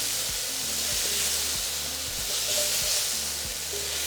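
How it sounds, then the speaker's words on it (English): Meat browns in hot oil in a pan for chile verde con papas, giving a loud, steady sizzle and hiss with soft spattering and occasional scraping stirs. "we're going to add half of our meat and just allow the meat to get nice and brown"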